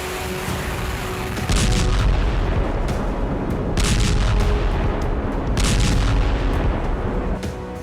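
Explosions at a Russian oil depot: deep booming blasts thunder repeatedly over a constant roaring rumble, loud and heavy, with several sharp bursts spaced a few seconds apart.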